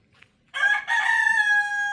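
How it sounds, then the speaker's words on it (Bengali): A rooster crows once from a village house on a cold morning, a loud, drawn-out cock-a-doodle-doo starting after a brief quiet pause and holding its final note, close by with no talk. "ওই ঘরে মুরগি ডাকতে শুরু করে দিয়েছে।"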